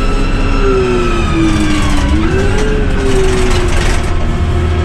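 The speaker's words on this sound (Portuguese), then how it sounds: "ligaram o motor pra encher" An XCMG GR1803 motor grader's engine runs at a steady, loud idle. A constant droning hum carries an upper tone that wavers slightly, and no one speaks.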